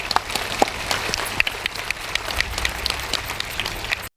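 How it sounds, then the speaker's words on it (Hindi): Audience clapping at a cultural festival stage event, a dense patter of many hands with sharp individual claps throughout, fairly steady and moderately loud across the room, no voices on top. "ये जोरदार तालियां, और जान इन तालियों में अगर कम नहीं होगी तो मजा नहीं आएगा"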